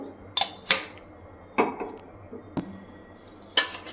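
Boiled potatoes being mixed with chili powder, black salt and oil in a metal bowl, the spoon knocking and scraping against it in a few sharp, close clinks spaced irregularly.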